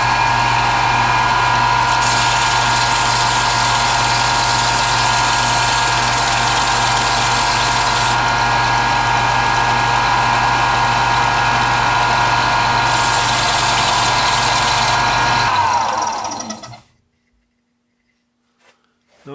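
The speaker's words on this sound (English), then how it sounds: "So I'm going to sand that down as well on my belt sander." A belt sander runs steadily on a wooden piece with a loud, continuous motor whine and abrasive hiss, then spins down and stops near the end, leaving near silence.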